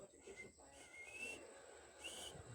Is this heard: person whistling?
yes